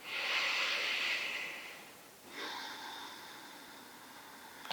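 Slow, deep belly breaths during seated yoga pranayama: a long, airy exhale fades out, followed by a softer breath close to the mic.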